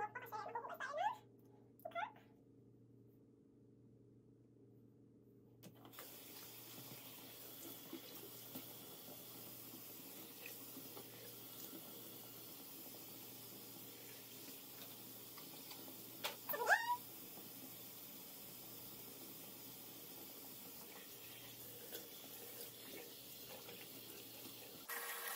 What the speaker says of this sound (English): Start by opening your pores, by washing your face with warm water